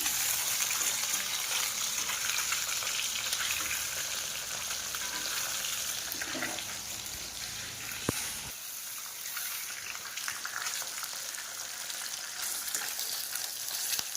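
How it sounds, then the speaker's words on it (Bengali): Fresh fish sizzles steadily in a hot pan, a dense continuous frying hiss with a brief clunk near the middle, close and fairly loud throughout with no talking. "মাছটাও তো ভাজা হয়ে গেছে, দেখি উল্টিয়ে নিই।"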